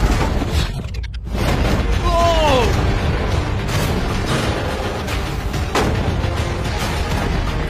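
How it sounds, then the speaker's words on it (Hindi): Tank cannon rounds fired at a target container, a loud blast followed by a rolling boom and rumble, heard from a short distance in open ground. "टैंक्स पैसों पर निशाना लगाकर 20 राउंड फायर करने वाले हैं।"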